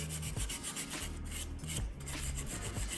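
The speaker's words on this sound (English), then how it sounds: "Take it off, clean off all the junk here." Rubber residue being scraped off a Mitsubishi Montero trailing arm with a hand tool during a bushing swap, a steady rough rasping that repeats in short strokes, close and loud with no talking.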